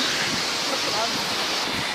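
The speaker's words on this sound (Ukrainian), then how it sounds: "Клас, ух ти, там такий водоспад." A mountain waterfall in the Carpathians roars as a continuous broadband rush of water, loud and steady throughout, with no break.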